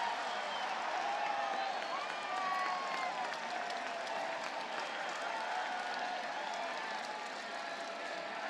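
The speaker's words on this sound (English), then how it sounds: "Any idea what the crowd eruption is about?" Steady crowd applause and cheering fills a baseball stadium in Monterrey, Mexico, during a Dodgers–Padres game, a continuous wash of clapping and roar heard at a distance with faint voices.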